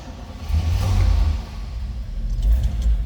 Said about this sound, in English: We're gonna fire it up, let you hear it run